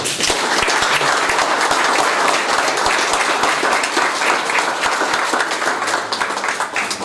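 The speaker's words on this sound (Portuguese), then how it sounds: "Você pode aplaudir ao Senhor?" A congregation applauds the Lord during a Brazilian Christian TV broadcast, steady loud clapping from many hands that carries on throughout without a break.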